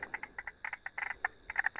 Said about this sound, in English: That's the clicking of the spotted marsh frog.